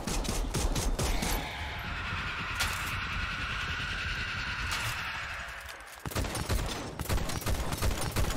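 Shotgun blasts from the video game Dead Island 2, a burst of rapid loud shots at the start, a sustained noisy stretch in the middle, then more sharp repeated firing after a brief dip, with no talking.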